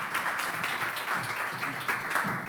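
An audience at a Spanish-language talk on future careers in the AI era applauds steadily, a dense, even wash of clapping that holds at moderate level throughout with no voices over it.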